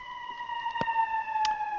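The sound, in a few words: siren going off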